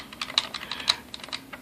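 Quick, light keystrokes tapped on keys while entering a password, about a dozen soft clicks in uneven bursts, close and fairly quiet with no talking.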